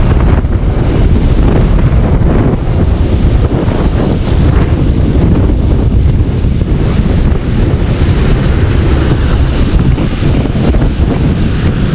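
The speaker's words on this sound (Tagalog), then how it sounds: "At malakas pa rin yung hangin." Strong typhoon wind roars continuously and loudly, a dense buffeting rush battering the microphone with no let-up, during flooding.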